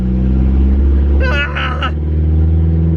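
A car with a rebuilt turbo drones loudly with a low engine rumble as it pulls away, heard from inside, with a short voice partway through.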